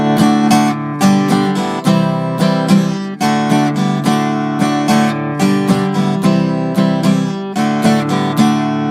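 An acoustic guitar strums a 4/4 pattern with the chord change delayed to the end of beat three, loud and close, with steady rhythmic strokes and brief muted gaps.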